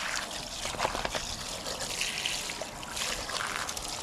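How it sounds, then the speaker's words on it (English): Fresh water trickles and splashes steadily into the gut cavity of a kingfish, a close, continuous rinsing sound with small irregular spatters throughout. "I'm just going to give the kingi a bit of a wash out"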